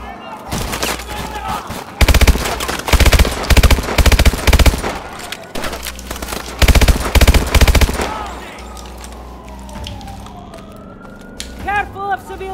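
Gunfire in Call of Duty Advanced Warfare, loud bursts of automatic fire in several strings with a rising and falling siren-like wail, ending in quieter ambience.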